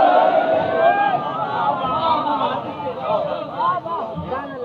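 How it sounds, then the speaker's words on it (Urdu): A large crowd of voices chanting the religious slogan "Haidari" together in unison, loud and reverberant, with the chant rising and falling in waves. "ہاتھ بلند کر کے سارے جوان مل کے حیدری"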